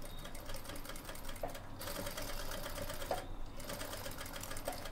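A sewing machine stitches a design onto a blouse with black thread, running in a fast, steady mechanical rattle with brief pauses, close but fairly quiet.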